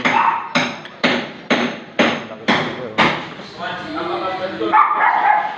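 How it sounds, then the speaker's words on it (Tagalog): A dog barks loudly about six times in a steady rhythm, close by, then gives a few softer yips as a person talks over it. "Ang lakas talaga ng aso na"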